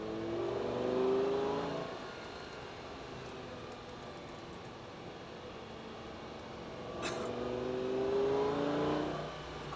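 Lamborghini Gallardo driven on a racetrack, its engine rising in two strong revving surges separated by a quieter stretch of steady running, heard from inside the car.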